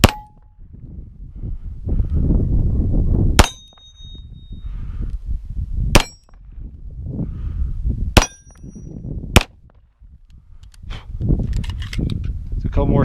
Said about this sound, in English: This is the 509 LS Edge. For a couple shots with you here.